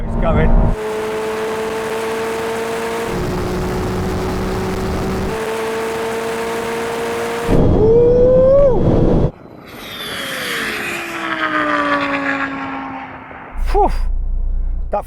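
A Ferrari 296, McLaren 750S, Lamborghini Huracan Performante and Porsche 911 Turbo race, their engines a loud, steady drone that shifts pitch through gear changes, then a sharp rising rev and a roaring pass-by that fades into wind and road noise.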